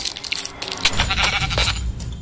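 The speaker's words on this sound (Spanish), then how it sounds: "Dos ovejas." Sheep bleat in the video game Minecraft, over a dense, busy game soundscape with clinking and shuffling noises, loud and continuous for a couple of seconds.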